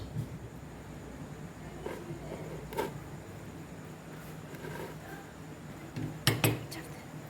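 Cooking pot set into place with tongs while baking a marble cake at home, faint scrapes and light metallic clinks, then a sharper clatter near the end, with a voice talking quietly underneath.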